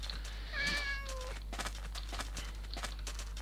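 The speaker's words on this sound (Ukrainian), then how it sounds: "О, котик. Я бачу котика." A cat in the Minecraft video game gives a single clear, drawn-out meow, fairly close and fading at the end, followed by scattered soft game clicks and ambient noise.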